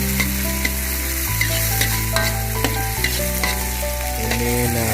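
Javanese nasi goreng, East Java Lamongan style, sizzles steadily in a hot pan while a utensil scrapes and clatters as the rice is stirred. Both sounds run loud and close throughout, with no voices.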